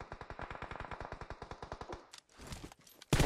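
Automatic gunfire in a PUBG firefight on the Livik map, a fast, steady burst of close shots followed by a few scattered louder shots.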